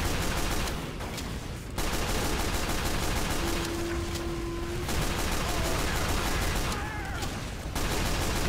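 Sustained suppressive gunfire from a Team Fortress 2 match, a dense continuous barrage of rapid shots with brief lulls, loud and steady throughout with no talk over it.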